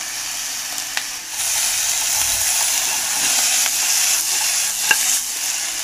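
Spicy pork with onion stir-frying in a pan, a steady close sizzle and hiss with occasional spatula taps and scrapes, no voices.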